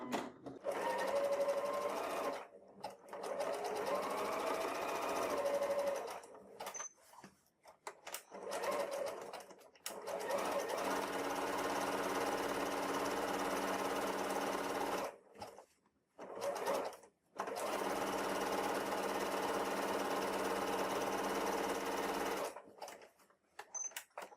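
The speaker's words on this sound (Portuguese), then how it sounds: "vou encaixar aqui na minha máquina e vou passar, então, o zigue-zague na volta toda aqui da abinha" A home sewing machine runs zigzag stitching around the flap of a fabric notebook cover, whirring steadily in long bursts with brief pauses between runs, close and loud.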